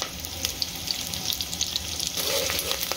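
Onions sizzle steadily in hot oil for a Telugu-style round yellow cucumber curry, a constant frying hiss with small crackles and a brief clatter of stirring near the end.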